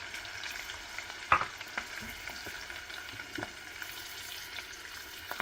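Peanuts, chana dal and cashews roast in oil in a pan, a steady close sizzle and crackle with occasional scrapes and clinks of a stirring spoon.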